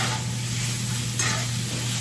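Cheesesteak meat sizzles loudly and steadily in a hot pan while being stirred, with a brief scraping burst of the utensil midway through.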